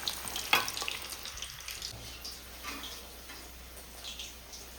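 Chicken 65 pieces deep frying in hot oil, a steady crackling sizzle with a few sharper pops and light clinks near the start, fairly faint and continuous with no talking.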